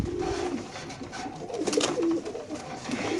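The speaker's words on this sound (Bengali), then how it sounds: "হোয়াইট রেসার কবুতর মাশাআল্লাহ।" White racer pigeons with club rings coo in a pigeon loft, soft low throaty calls repeating close by over a steady background hum.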